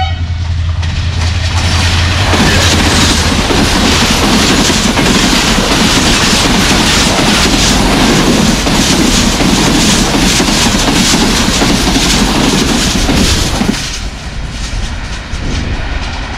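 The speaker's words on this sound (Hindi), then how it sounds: "अब तक की फास्टेस्ट ट्रेन गुजरी है जिमपी रेलवे स्टेशन से" A fast Green Line train rushes through Jhimpir railway station in Pakistan at about 110 km/h, a loud, close, continuous roar with rattling wheels that holds for over ten seconds before dropping away.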